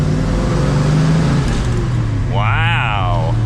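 A 1969 Ford Mustang Mach 1 Super Cobra Jet pulls hard in second gear, a deep engine roar rising under the throttle heard from inside the cabin, with someone speaking over it.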